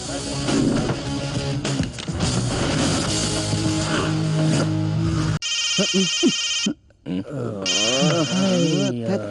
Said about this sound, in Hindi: भट्ट का फोन है।